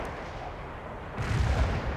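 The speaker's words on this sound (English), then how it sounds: "Heavy artillery fire for effect." Heavy artillery fire in World in Conflict, a low distant rumble that swells into a louder cluster of booming impacts partway through.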